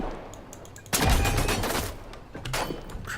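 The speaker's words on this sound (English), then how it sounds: "Yeah, I know these 2 shots will kill with this gun." Gunfire in the sci-fi game The Signal From Tölva, a dense fusillade of rapid shots erupting suddenly after quieter single pops, loud and sustained with further shots near the end.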